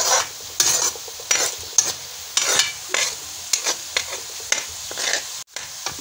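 Onions fried in a pan for mutton korma, stirred nonstop until brown: a steady bright sizzle broken by repeated scraping strokes of a spoon against the pan, close and fairly loud with no voices.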